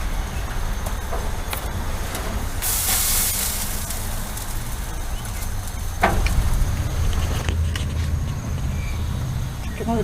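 Cedar plank salmon glazed with brown sugar and cracked black pepper on a grill with flames flaring, giving a steady hiss and crackle with a louder burst of sizzle partway through.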